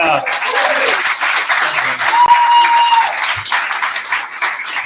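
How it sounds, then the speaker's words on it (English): Loud crowd applause at a political re-election campaign kickoff, dense clapping filling the room for several seconds with a few cheers and voices mixed in. "Give him a huge round of applause."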